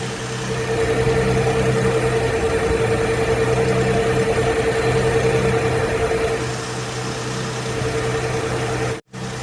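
A Nissan Z24E engine in a 620 pickup idles steadily with a constant hum and even vibration, close and continuous, dipping briefly to near silence just before the end.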